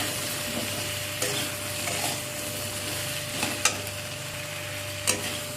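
Ripe jujube fruit (kul) being stirred in a pan while cooking down for a sweet-sour-spicy pickle, a steady low sizzle under a constant hum, broken by a few distinct spoon scrapes and knocks, no speech.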